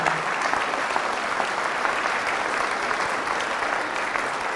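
Loud, dense applause from a church congregation honoring Jesus of Nazareth during a Catholic healing Mass, a steady wash of clapping with no voices over it.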